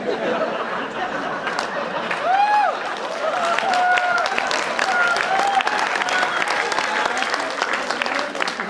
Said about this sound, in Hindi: मतलब काले का नाम पे इतनी ताली?